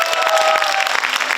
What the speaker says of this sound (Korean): 염영선 도의원님께 다시 한번 큰 박수 부탁드립니다